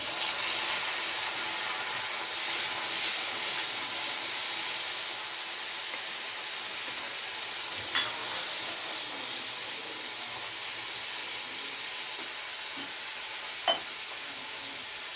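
Chopped tomatoes frying in a pan for a Chennai-style snake gourd thokku, giving a steady close sizzle with a couple of faint stirring clicks.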